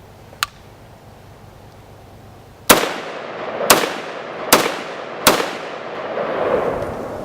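An FN FAL rifle being handled during loading and a magazine change: a faint click, then after a pause four loud, sharp metallic clacks with short ringing tails, spaced about a second apart, with no talking.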